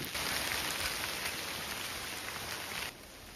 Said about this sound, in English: We didn't quite make it without it raining.